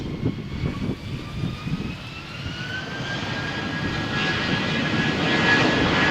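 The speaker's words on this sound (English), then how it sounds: "Vueling flight. It's cleared for takeoff." A Vueling airliner takes off from Malaga Airport's runway 13 on a stormy morning, jet engines building from a rumble into a steady, rising roar with a whining tone, heard from a moderate distance.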